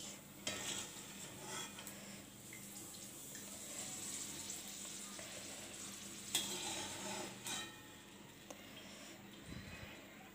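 Dry fruits and raisins sizzle softly in hot oil for crispy chivda, with occasional scraping stirs and light clinks heard close.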